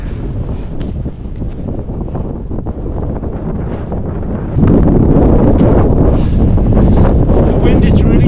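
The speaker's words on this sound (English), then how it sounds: "The wind is really picking up" Strong gusting wind buffets the microphone on a steep, snowy ridge of Angels Landing in Zion National Park, a steady roar that surges louder midway through and stays heavy to the end.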